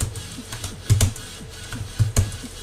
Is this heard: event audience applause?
no